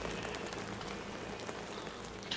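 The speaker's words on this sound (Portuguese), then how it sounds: "Fica chato tanta chuva." Steady rain falls in Minecraft, a dense, even patter of drops hissing across the whole clip at a constant level, with no voices.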